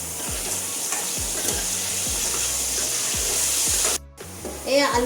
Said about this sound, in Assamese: এই আলুখিনি ৰঙাকৈ ফ্ৰাই কৰি ল'লোঁ